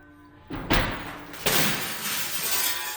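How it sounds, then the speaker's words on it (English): A glass picture frame falls onto the floor and shatters, a sudden crash followed by a second impact and a long spray of tinkling glass fragments settling, close and loud. "Down goes the frame and the glass is everywhere."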